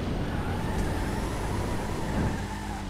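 A vehicle in GTA 5 Online accelerates with a dense, continuous engine roar and road rumble, loud and steady throughout with no pauses.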